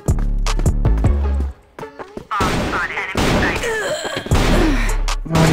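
Rapid gunfire bursts from an online shooter match, loud and close, arriving in quick clusters with a brief lull before more shots and explosive-sounding blasts, while someone talks excitedly over them.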